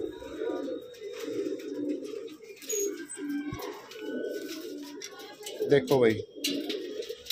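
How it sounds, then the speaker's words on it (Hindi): A flock of about fourteen or fifteen pure-bloodline pigeons, red and other varieties, coo steadily in a low, continuous warble close by, with someone talking over them throughout. "ये 14-15 कबूतर हैं, इसमें मकोए भी हैं, लाल भी हैं।"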